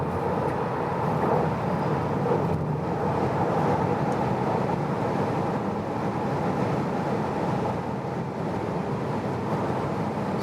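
A 2020 Tesla Model 3 Long Range speeds up on a German autobahn, a steady cabin rumble of road and wind noise that holds loud and even throughout, with no talk.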